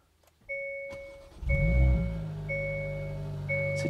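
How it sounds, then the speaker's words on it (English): Hyundai i20N hot hatch starting up: a repeating two-tone dashboard chime rings out, then the engine cranks and catches with a loud low surge that settles into a steady idle while the chime keeps sounding. "So it does have a bit of a nice bing bong."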